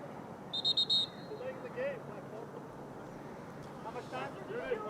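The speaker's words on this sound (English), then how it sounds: "Vipers get the face-off win, get the shot at the buzzer by Pfister, no good." Horn-like end-of-period buzzer at an ice hockey game between Glendale and Horizon, sounding in a few short loud blasts early on, over crowd noise and an announcer's commentary.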